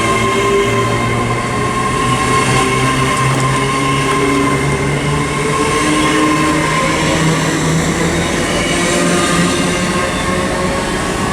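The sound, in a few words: Class 800 train 800-015 passing on the Great Western Main Line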